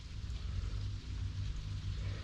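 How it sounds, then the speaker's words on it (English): Steady rain falls outside a front porch, a soft continuous wash of drizzle with low rumbling background noise and no voices. "it's raining right now."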